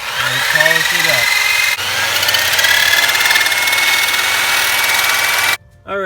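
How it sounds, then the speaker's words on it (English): A drill spins a wire brush against a Volvo engine part to polish it, a loud steady whirring grind with a faint whine, briefly dipping mid-run and cutting off near the end. "That's about as much as you can do with a wire brush on a drill."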